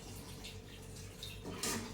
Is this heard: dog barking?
no